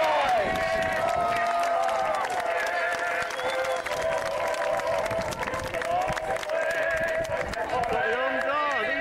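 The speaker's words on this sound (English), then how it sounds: "So give a big cheer for our Dutch allies!" At an outdoor historical re-enactment grand parade, a crowd cheers and applauds for Dutch troops, a steady wash of clapping and voices, with a loudspeaker voice and other sounds mixed in.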